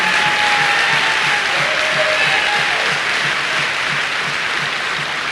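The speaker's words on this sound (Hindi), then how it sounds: "एक बार जबरदस्त तालियां हो" Loud, sustained applause from a large crowd at a business training seminar, dense clapping filling the space steadily without pause.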